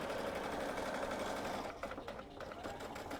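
Sewing machine stitching a self-binding blanket, running a steady back stitch and then forward, loud and continuous with a short easing in the motor hum partway through, no talking.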